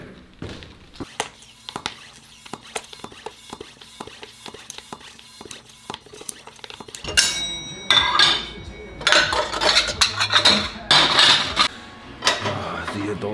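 Dishes being washed by hand: scattered clinks and knocks of plates and cutlery at first, then running water and louder clattering in the second half, fairly close with no talk.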